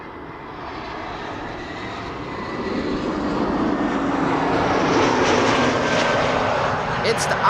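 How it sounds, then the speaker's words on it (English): An ITA Airways A320neo airliner on approach at Amsterdam Schiphol, arriving from Rome, gives a steady jet engine rumble that grows louder and nearer over several seconds, with someone talking over it. "Let's first have a look at this beautiful second ITA Airways that is approaching from Rome"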